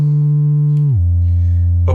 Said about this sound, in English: Set it to sine wave.